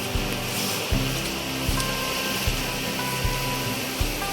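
A strong stream rushes beside rice fields, a dense, loud, continuous roar of water filling the whole stretch with a faint regular low thumping underneath.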